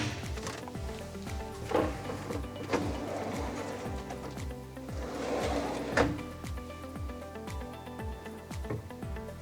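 A kitchen drawer is forced onto its drawer slides, giving soft clicks, knocks and scraping over a steady low background for several seconds.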